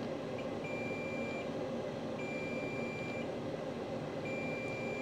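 A multimeter gives continuity beeps while probing low-resistance lines on a dead iPhone 14 Pro Max board. Three short high beeps come at regular intervals, faint over a steady background hum.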